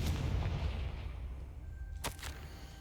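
Confringo blasting spell in Hogwarts Legacy: a rumbling burst fading away, then a sharp crack and a second quicker hit near the end, fairly quiet overall with no talk.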